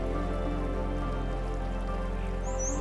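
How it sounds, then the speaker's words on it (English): Silver Falls waterfall in Silver Falls Park, falling water making a steady, even rushing hiss that stays constant throughout with no voices. "The sound of falling water is a quiet whisper"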